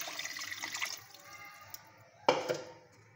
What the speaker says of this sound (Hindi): और 1 लीटर भर के जग पानी इसमें जाएगा।